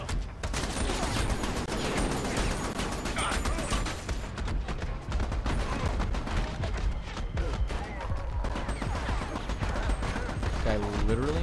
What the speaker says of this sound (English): Apparently shotguns are so incredibly fucking slow to shoot.